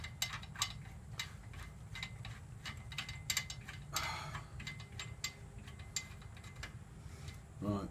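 A ratchet tightening the PTO clutch on a John Deere 190c lawn mower, with rapid repeated metallic clicking in quick strokes, close up, over a low background hum.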